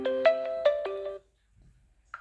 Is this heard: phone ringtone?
yes